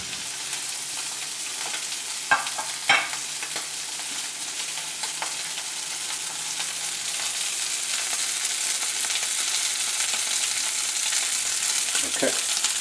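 Crispy-skinned haddock fries in a hot pan with a continuous loud sizzle. A few sharp clatters and scrapes of utensils break through the hiss.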